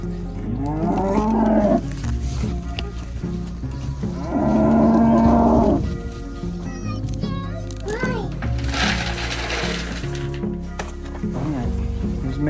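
Cattle lowing at a home farm, with several drawn-out moos that swell and fade over a steady background, while a child and other people talk nearby.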